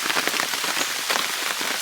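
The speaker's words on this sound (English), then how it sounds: "Loving all of this rain." Steady rain falling on a garden with asparagus, mugwort and borage, a dense close patter of drops hitting leaves and ground without pause.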